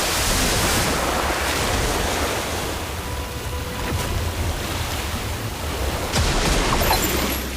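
A water orb spell effect in the Harry Potter Magic Awakened video game gives a broad, steady rushing wash like surf, loud and continuous with a few sharp accents, and no voices.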